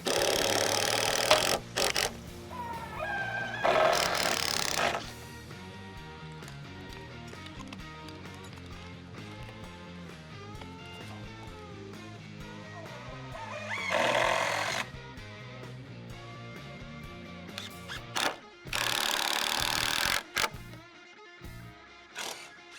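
Power drill driving screws into a wooden pergola beam, several bursts of whirring drilling a few seconds each with quieter gaps between, close and fairly loud.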